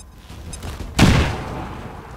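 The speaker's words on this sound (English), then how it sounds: "Grenade. Have a grenade." A grenade goes off in the XCOM 2 game with a sudden loud boom about midway through, then a rumbling tail that fades slowly beneath steady background game noise.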